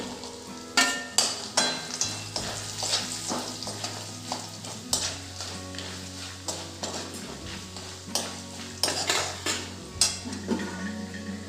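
Fried peanuts and coconut tumbled in hot oil in a pan for poha chivda, with steady sizzling and repeated sharp clinks and scrapes of a spoon against the metal in quick, uneven rhythm, close and clear.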